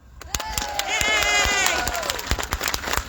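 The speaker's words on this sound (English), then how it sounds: "You have to applaud for him when he does." A crowd at an outdoor Autism on the Hill gathering on Parliament Hill in Ottawa cheers with a rising whoop and scattered sharp claps over about three seconds, fairly close and lively.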